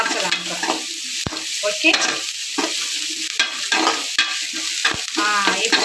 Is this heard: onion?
yes